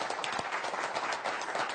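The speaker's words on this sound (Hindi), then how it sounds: "सभागार में बैठे हुए लोगों ने तो तालियां बजाई" An audience in a hall claps steadily, with dense, even applause sustained throughout and no voices over it.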